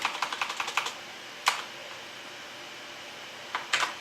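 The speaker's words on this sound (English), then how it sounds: "So I'm going to type that in now" Fingers tap a computer keyboard in a quick burst of about eight close, light keystrokes, then a single louder key press, a pause, and a few final taps in a quiet room.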